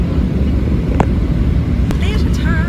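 Airplane cabin before takeoff on a flight to Seattle: a steady low roar of engines and ventilation fills the clip, with brief faint voices and a soft tone toward the end.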